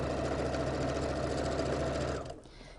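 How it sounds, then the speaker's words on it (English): A sewing machine stitches quilt seams with a steady, fast, even mechanical whir that runs continuously and then cuts off abruptly near the end, leaving near silence. "So let's go to the sewing machine and do that."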